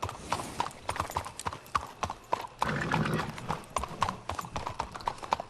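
Horse hooves clip-clop steadily in the Red Dead Redemption 2 video game, a brisk regular rhythm of close, distinct hoof strikes with a brief whinny-like swell in the middle.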